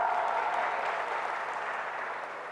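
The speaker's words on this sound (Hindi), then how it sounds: "मुझे ये नहीं समझ में आ रहा कि क्यों ताली बजा रहे हैं" An audience at a spoken talk applauds steadily, a dense, even wash of clapping that holds throughout and fades slightly toward the end.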